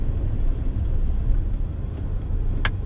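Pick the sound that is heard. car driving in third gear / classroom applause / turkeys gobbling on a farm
car driving in third gear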